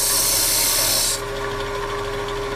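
A wood lathe tool cuts into a turned snowman Christmas tree ornament with a loud, steady rasping scrape. A bright hiss drops away after about a second and the grinding cut carries on alone.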